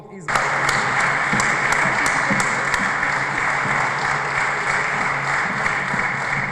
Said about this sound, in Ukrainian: Аплодисменти, привітання і перші жарти.